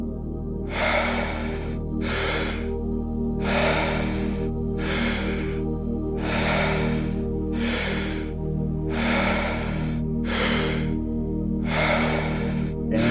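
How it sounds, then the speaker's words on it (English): Slow, deep breathing, drawing in through the nose and releasing out through the mouth, repeated about eight times in a steady rhythm, close and loud over a low background hum. "And in through the nose, out through the mouth."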